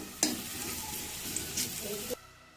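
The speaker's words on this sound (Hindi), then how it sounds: "लहसुन हमारा ब्राउन हो चुका है।" Garlic browning in a hot pan for pineapple chicken, a loud close sizzle with stirring scrapes that cuts off abruptly, no voices.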